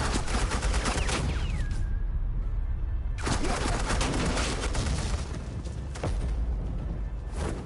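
Gunfire rattles in a Harley Quinn video game as loud, dense bursts of automatic shots, with two clear bursts separated by a brief lull and a third fading toward the end.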